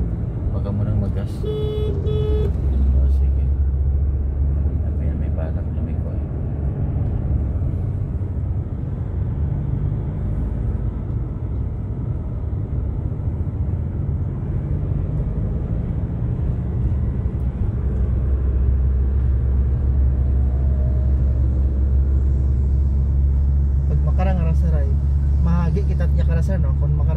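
A tricycle and a single motorcycle pass by on a road, their engines a steady low rumble that rises and fades over nearly half a minute, with voices talking throughout.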